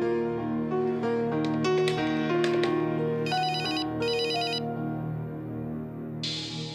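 A telephone rings during a call, its ringtone repeating in electronic bursts over a steady musical background, with no talking.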